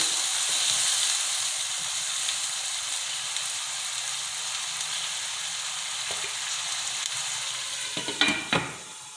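Yogurt-marinated chicken cooks in a covered pan, giving a steady soft sizzle and hiss throughout, ending with a couple of sharp clatters as the lid or a utensil moves.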